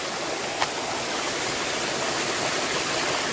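Forest stream water rushing steadily, a loud, dense hiss of flowing and splashing water close by, continuous throughout with a single brief knock and no voices.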